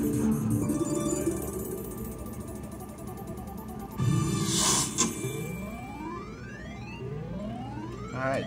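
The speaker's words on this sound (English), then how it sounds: "Bonus wheel." A bonus wheel spins in a Super Triple Play video poker game, giving a steady ratcheting click-and-chime run that rises and falls over several seconds, with a brighter electronic flourish midway and no talking.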